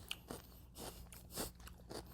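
Bites into a crunchy pickle, the darker back end, give a few short crisp crunches spaced through the stretch, close and fairly quiet, with no talking.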